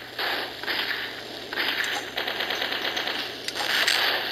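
A laser gun in a video game with a jetpack fires in rapid sustained bursts, a harsh buzzing rattle near and loud with short breaks between volleys.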